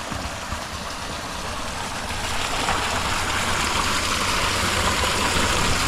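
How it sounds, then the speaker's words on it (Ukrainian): A motor-driven pump drawing water at a borehole being drilled for drip irrigation gives a steady, even engine hum mixed with rushing water, continuous and moderately distant, growing slightly louder toward the end. "Там насос стоїть, качає воду."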